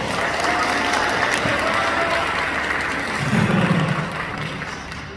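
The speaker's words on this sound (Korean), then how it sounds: "박수를 한번 보내주시죠" Sustained applause from a wedding crowd, steady dense clapping that swells briefly near the end before easing off.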